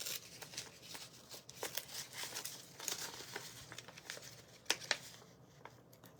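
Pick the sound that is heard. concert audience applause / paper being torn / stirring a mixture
paper being torn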